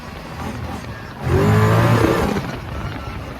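A 2022 Kawasaki Brute Force 750 ATV engine revs up from a steady idle into a louder, rising acceleration for about a second, then eases back down, heard close with no talking.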